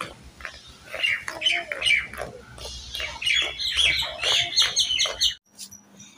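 Many birds chirp and squawk in front of a house, a dense overlapping chatter of close, lively calls that continues steadily for several seconds before cutting off abruptly.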